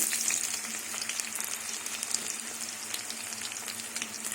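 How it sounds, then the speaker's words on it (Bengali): Chopped onion frying in hot mustard oil alongside garlic and dried red chillies makes a steady, loud, close sizzle with crackling pops and occasional stirring, with no voices. "এবার কুচনো পেঁয়াজ দিয়ে দেবো"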